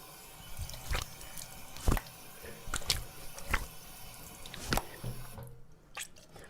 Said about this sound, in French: donc je me suis lavé 3 fois le visage